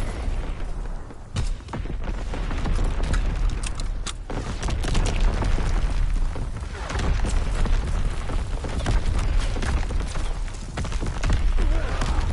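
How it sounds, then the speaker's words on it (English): Primary battery guns firing in a PS4 battle game, a dense, continuous rumble of heavy booms and mechanical clatter with repeated sharp blasts throughout. "Firing primary battery."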